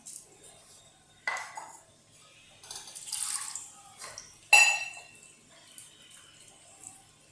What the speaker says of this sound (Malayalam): ആവശ്യത്തിന് വെള്ളം കൂടെ ചേർത്ത് കൊടുക്കാം